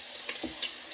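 Tap water runs steadily into a cooking pot while pumpkin soup is being made, a brief continuous hiss of flowing water with no talk.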